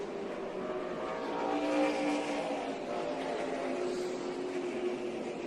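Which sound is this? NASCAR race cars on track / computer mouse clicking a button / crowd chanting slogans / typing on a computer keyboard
NASCAR race cars on track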